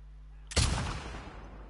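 A single loud gunshot goes off in The Last of Us Part 2, a sharp close blast that rings out into a long decaying echo.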